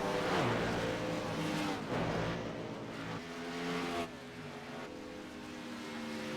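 Race cars lap a track during the second qualifying heat of a charity racing event, engines rising and falling as several cars pass one after another, loud and close, with no talk.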